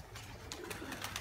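Pigeons coo softly in a winter setting, a few low murmuring calls repeating at a distance under faint background noise.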